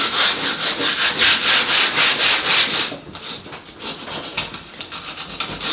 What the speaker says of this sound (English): A couple of marks in there, so I'm giving them an extra sand just around the end areas.